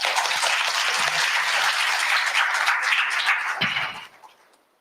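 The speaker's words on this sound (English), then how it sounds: "Please give a big clap." An audience at an indoor anti-corruption day forum claps together in sustained applause for about four seconds before it thins out and fades.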